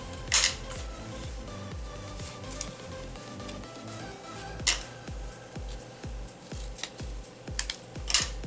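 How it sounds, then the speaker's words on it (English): Scissors snip through paper scraps, trimming them into tag shapes for junk journal ephemera, with repeated close, crisp cuts at an irregular pace and sharper snips near the start, middle and end, no talking. "I'm just going to cut them into the shape of a tag."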